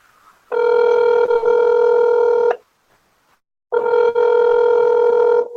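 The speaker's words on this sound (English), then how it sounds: "If you know the extension number of the person you're trying to reach, you may dial it now." Touch-tone keypad tones dialing a phone extension, two long steady dual-pitch beeps separated by a short silence, loud and close with no voices.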